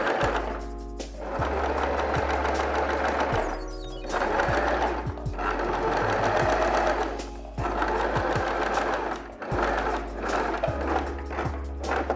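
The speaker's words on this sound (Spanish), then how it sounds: "pueden coser la parte de los hombros con puntada recta común. Si no, pueden hacer un zigzag muy chiquitito" A Singer sewing machine runs in several steady bursts, stitching a straight or small zigzag seam along the shoulders of a vest, its motor whirring loudly with brief pauses between runs and no talking.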